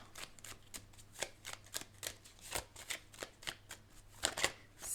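A deck of tarot cards is shuffled by hand in a quiet room, a rapid run of crisp riffling and slapping bursts in an uneven rhythm, close and clear with no talking.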